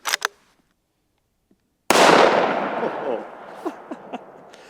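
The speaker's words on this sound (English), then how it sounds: "I just gotta shoot at the watermelon" A single loud gunshot fired at a watermelon from a powerful handgun, a sharp blast with a long rolling echo, followed by a few faint pops and clatter.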